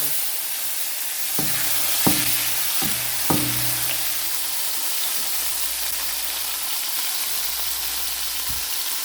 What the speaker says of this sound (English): Let's start frying all our spices, our lamas, all together wonderfully,